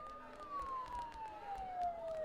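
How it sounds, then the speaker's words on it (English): Police sirens in the video game Persona 4 Golden, a single faint, slowly falling wail that sounds distant and sits under a low background bed. "Don't those sirens sound really close?"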